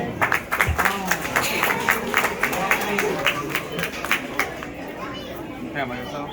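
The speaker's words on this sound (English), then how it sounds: "All right, big round of applause." Steady audience applause at a 6th grade promotion ceremony, many hands clapping in a dense, lively patter for several seconds amid crowd chatter and children's voices.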